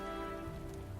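Rainfall in the video game Metaphor: ReFantazio, a steady soft patter of rain holding evenly for a moment under a faint humming background tone.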